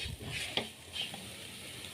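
A spice masala mixture for stuffed karela is stirred in a pan, giving soft scraping and a faint sizzle with a few light clinks, fairly quiet and close.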